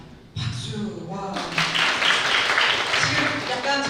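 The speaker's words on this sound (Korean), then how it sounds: "박수." An audience at a parents' school session applauds, with steady, fairly close clapping swelling after a brief pause and mixing with some voices.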